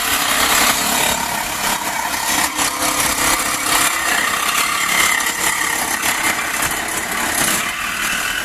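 An angle grinder cuts through the exhaust pipe of a Dodge Challenger SXT V6 during a rear resonator delete, a loud continuous harsh grinding whine held steady close by, with no talk.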